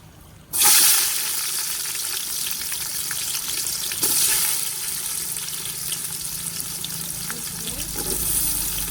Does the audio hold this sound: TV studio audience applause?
no